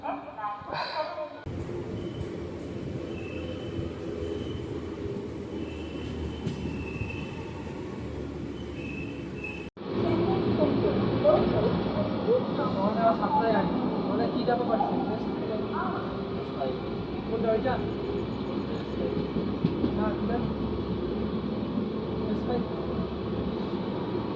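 A train rumbles past continuously with rattling wheels and a steady mechanical roar that grows louder partway through, heard from on board the Yercaud Express between Erode and Chennai or close by.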